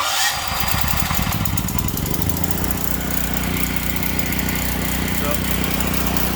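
A Gentron 10,000-watt generator cranks with a sputtering start, then catches and settles into a loud, steady engine drone close by.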